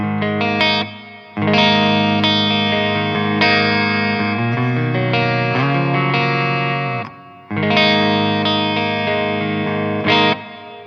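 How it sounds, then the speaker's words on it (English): Electric guitar through an Orange OR30 amp on a clean tone plays sustained chords and a short melodic run, with a wash of reverb tails ringing out between phrases. "let's try adding some reverb"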